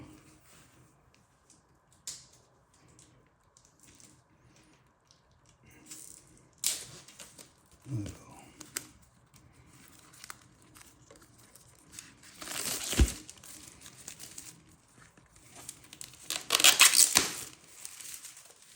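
Box for the board games Thunder Road Vendetta Maximum Chrome and Cirque du Chaos being opened, with bursts of crinkling and tearing plastic wrap between quieter handling, loudest near the end.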